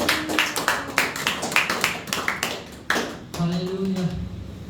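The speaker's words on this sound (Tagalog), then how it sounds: "Palakpak sa Panginoon." A congregation claps during a church service, with quick, fairly loud rhythmic claps that then trail off into a sung or spoken voice.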